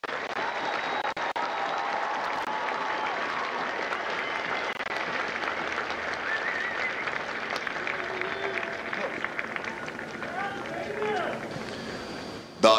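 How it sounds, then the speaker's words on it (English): Sustained applause and cheering from a large ceremony crowd at a U.S. Marine Corps recruit graduation at MCRD San Diego, honoring Hotel Company's staff, steady and dense throughout before fading near the end. "please join me in a round of applause for the company staff of Hotel Company"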